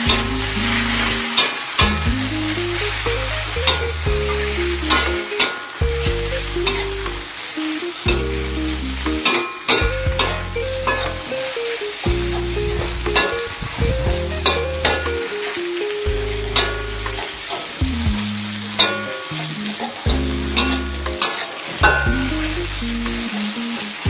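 Flat kueh tiaw rice noodles are stir-fried with kecap manis and kecap pekat, loud sizzling broken by rhythmic tossing and scraping strokes of the spatula in the pan, repeating steadily throughout with no voices.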